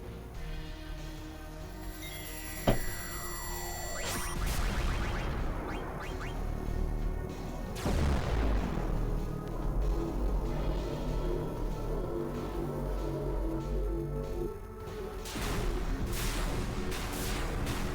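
Final Fantasy IX game music plays bugged and distorted, a dense harsh wash of clashing tones, sweeping pitch slides and crackly booming noise, loud and continuous with brief drops, no talk over it.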